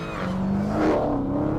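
A Dodge Challenger SRT Hellcat's supercharged 6.2 litre Hemi V8 with a 2.4 litre supercharger revs loudly and close, its pitch climbing to a peak and easing back in one steady, continuous pull.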